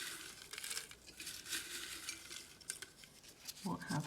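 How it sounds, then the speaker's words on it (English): Paper slips being stirred and shuffled inside a TBR jar, a quiet continuous rustling and light scraping, with a brief voice near the end. "So that's this jar here. Let's mix those around."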